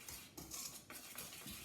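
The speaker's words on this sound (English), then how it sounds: "You can take your whisk and mix it all a little bit." A whisk clinks and scrapes against a bowl while mixing dry ingredients, several quick metallic strokes, quiet and close.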